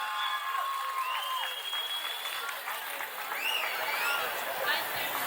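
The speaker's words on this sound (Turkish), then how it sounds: "alkışlar eşliğinde sahneye davet etmek istiyorum" Audience applause at an outdoor Victory Day celebration in Turgutlu as a guest is invited onto the stage, steady dense clapping throughout with whistles and cheering voices rising over it.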